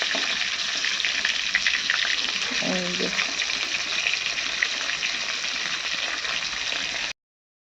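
Katla fish fries in hot oil in a home kitchen, a steady close sizzle running throughout with a short clink of utensils partway through.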